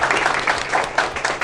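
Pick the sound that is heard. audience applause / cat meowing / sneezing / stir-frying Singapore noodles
audience applause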